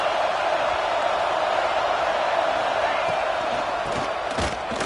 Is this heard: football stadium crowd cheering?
yes